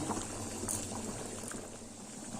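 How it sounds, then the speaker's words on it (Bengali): Boiled water is poured into a pot of mutton curry with potato and papaya, a steady close bubbling, trickling wash that runs on evenly. "এবার আমি ফুটানো জলটা দিয়ে দিচ্ছি"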